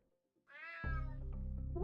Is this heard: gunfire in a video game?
no